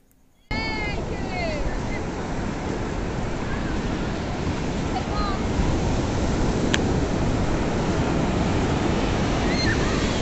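Sea waves roll onto Puri beach as a fishing boat lands, a constant loud surf roar mixed with wind buffeting the microphone, with faint distant calls now and then.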